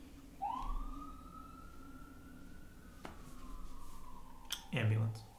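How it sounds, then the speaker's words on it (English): An ambulance siren passes outside, one long rising and gliding wail, moderately distant, heard under nearby talk and ending with a brief louder burst. "Ambulance."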